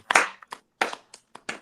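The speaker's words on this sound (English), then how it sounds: "we all give her a clap, please?" A live audience claps on a talk show, breaking into several short bursts of applause with brief gaps between them, fairly close.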